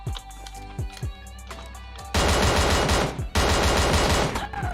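Automatic gunfire in the PUBG Mobile video game, loud and close, opening with a few separate shots and then turning into long dense bursts with a short break between them.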